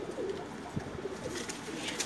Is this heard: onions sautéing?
no